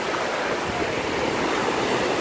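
Ocean waves wash steadily at the shore in a continuous broad roar with no distinct breaks, loud and close, with no voices.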